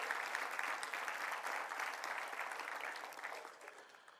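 A church congregation applauds in a steady, dense burst of clapping. It holds loud for about four seconds, then tapers slightly at the end, with no voices over it.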